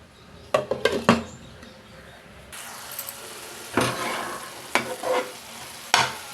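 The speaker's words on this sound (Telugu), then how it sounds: "స్టవ్ మీద పెట్టుకుని మీడియం మంట మీద మూత పెట్టి ఉడికిద్దాం" Minced meat (keema) sizzles steadily in a pan over medium heat while a utensil scrapes and stirs in several sharp bursts, close by.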